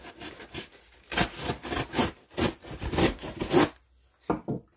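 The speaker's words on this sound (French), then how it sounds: "on va découper maintenant." A package is cut open by hand, giving a series of rough, rasping scraping strokes in an even rhythm, close and fairly quiet, with a short pause before a few final strokes.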